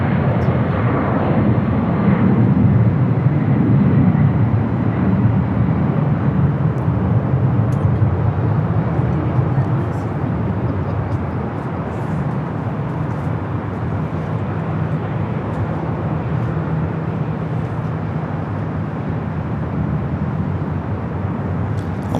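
Avianca Airbus A320, flight 525 to San Salvador, roars steadily at LAX, a loud broad jet rumble that is strongest early on and then holds as a sustained, slightly softer drone.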